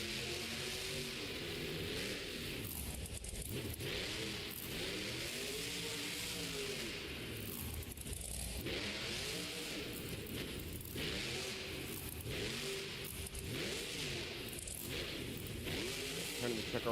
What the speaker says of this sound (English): Turning the truck around.